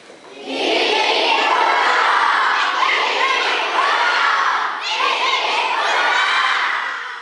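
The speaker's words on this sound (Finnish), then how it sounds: "ehdotan, että kohotamme kolminkertaisen hip hip hurraa huudan, kun nostan käteen" A crowd at a Finnish Independence Day celebration gives a triple hip hip hurray cheer, a loud massed shout of many voices that swells, dips briefly, then surges again.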